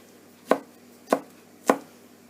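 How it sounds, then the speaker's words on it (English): Garlic cloves are chopped with a kitchen knife on a cutting board, giving three crisp, evenly spaced thuds of the blade close to the microphone against a quiet room. "I'm going to chop up some garlic because my mincer's broken"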